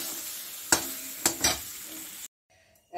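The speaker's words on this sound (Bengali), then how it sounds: "মানে আমার মশলাটা ভাজা হয়ে গেছে" Spice paste frying in oil for khichuri, with a steady sizzle broken by a few sharp stirring clatters. The sound then cuts to near silence before a short burst returns at the end.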